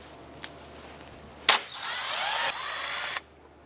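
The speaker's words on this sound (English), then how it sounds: "remove this 10 millimeter bolt here and this 10 millimeter bolt here" A 10 millimeter bolt backed out of a Dodge Durango airbox with a power drill, a short sharp click followed by a close whirring spin of about two seconds that then cuts off.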